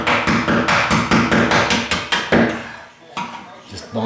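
A chisel chips hardened bondo body filler out of a car body panel in rapid, loud, evenly spaced knocks that slow and fade toward the end.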